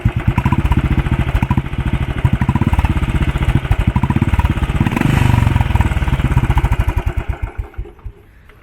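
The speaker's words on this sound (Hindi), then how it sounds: "और ये एग्जॉस्ट आपको अभी थोड़ा सा रेव करके दिखा देते हैं।" A Royal Enfield Bullet 500 single-cylinder motorcycle thumps loudly at close range, its exhaust beating in rapid, distinct pulses that swell with a brief rev in the middle, then slow into widely spaced chugs as the engine dies away.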